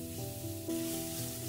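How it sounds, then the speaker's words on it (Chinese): Eggs sizzle gently in a pan over low heat while being stir-fried into small pieces, a soft continuous crackle with faint stirring. "鸡蛋炒至定型以后，我们把它炒成小块"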